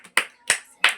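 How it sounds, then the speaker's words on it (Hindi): Children in a classroom quiz clap their hands in three short, loud bursts of applause, each a quick flurry of claps with brief pauses between, no talking. "ताली बजाओ।"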